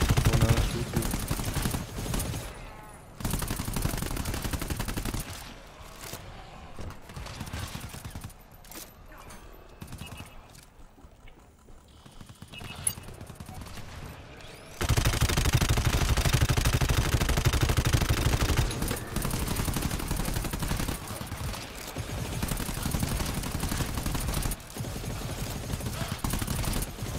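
Sustained automatic gunfire in GTFO, loud rattling bursts that drop away to a quieter stretch in the middle before heavy continuous shooting resumes near and dense, with a voice talking at times.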